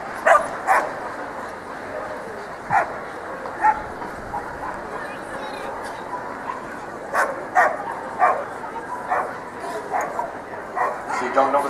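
A border collie barks in short, repeated yapping bursts throughout an agility run at the Olympia semi-final, close and lively, while an announcer talks over the action in a busy arena.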